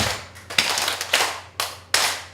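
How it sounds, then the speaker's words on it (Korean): Group of participants at a 7080 singing class clapping hands together in rhythm, several sharp collective claps spaced about half a second apart, close and clear with a low hum underneath. "이제 입으로 하지 말고 박수만 시작!"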